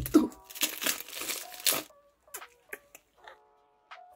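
A review package is opened by hand, with loud crinkling, rustling wrapping for about two seconds, then quieter scattered crackles and handling noises.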